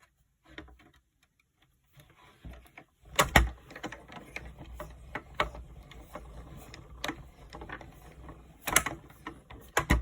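Manual die-cutting machine cranking a large butterfly die through paper, with a run of clicking, ratcheting mechanical sounds and a few sharper clunks, fairly close and quiet.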